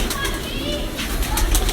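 Breeder pigeons, the large mustached variety, cooing and flapping their wings, heard close and busy under a steady background murmur, with brief rustling wing bursts near the end.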